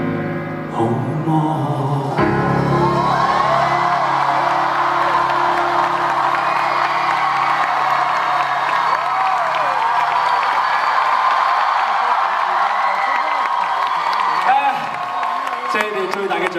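A concert audience at a live show cheers, whoops and applauds in a sustained, fairly loud swell that carries on for the whole stretch, with a voice heard over the crowd.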